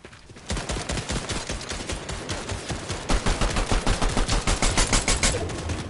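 Gunfire in the Fortnite video game cracks out in a rapid, loud run of repeated shots that continues steadily to the end.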